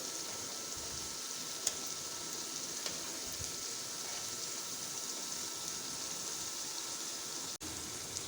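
Vegetable radish kebabs frying in oil, a steady bright sizzle that holds evenly throughout, close and continuous with only faint occasional pops.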